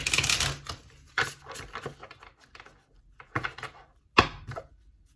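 A new tarot card deck being shuffled, with quick papery riffles and card clacks in short bursts separated by quiet gaps, close and fairly soft.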